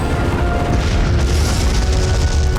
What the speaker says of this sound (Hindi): देखिए कैसे आग उगल रही हैं अकबर की तोपें